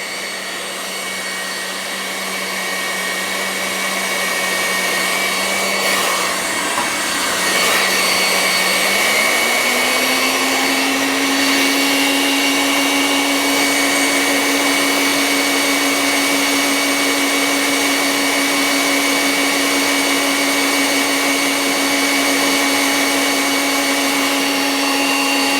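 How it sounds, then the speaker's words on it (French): Electric hand mixer whipping egg whites for a strawberry charlotte, a steady loud motor whine that rises in pitch partway through and then holds constant, with no talking. "Voilà, les blancs sont presque montés, on va les arrêter bientôt."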